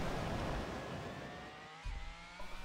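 Engine of a powerful car in Need for Speed: Hot Pursuit 2 on PC, a thin, steady drone with rising whine, fairly quiet and toy-like, with a brief dip and surge near the end.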